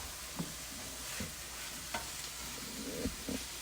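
Pieces of cod cook in a pan with a faint, steady low sizzle, broken by a few soft taps and scrapes of stirring.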